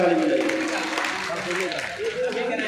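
Audience at a Bhagavat Katha religious discourse clapping together, a steady moderate wash of applause that carries on throughout, with voices and chatter mixed into it.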